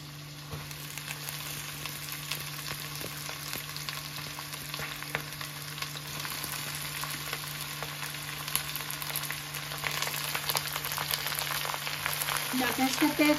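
Amaranth stalks frying in a pan of hot oil, a steady close sizzle with light crackles throughout that grows a little louder near the end, no voices.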